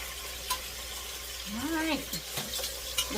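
Beef strips for beef stroganoff sizzle steadily in a pan, a moderate continuous frying hiss with a few stirring scrapes, while a voice speaks briefly over the cooking.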